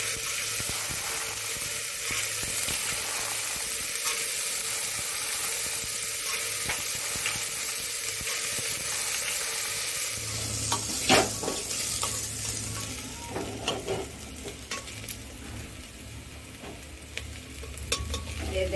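Chickpeas and peas frying in a pan while a spoon stirs them, a steady close sizzle with scraping stir strokes that grow more distinct in the second half.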